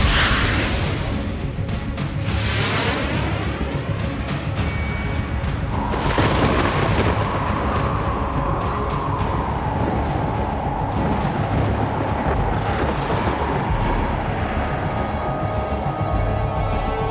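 Sci-fi starship weapons fire on Earth in a long barrage of heavy booming blasts and rumbling artillery-like bursts, layered with swelling whooshes and a continuous dense roar.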